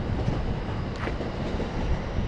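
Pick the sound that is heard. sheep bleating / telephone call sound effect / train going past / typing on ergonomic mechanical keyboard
train going past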